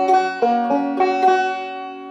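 A banjo plays an alternating thumb roll, a quick rolling pattern of bright picked notes ringing over each other, close and solo.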